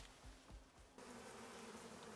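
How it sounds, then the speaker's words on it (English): Bees buzz steadily in the survival video game Icarus, a continuous droning hum that fills the whole clip, with a few low thumps near the start before the buzzing grows fuller and louder. "and I heard bees"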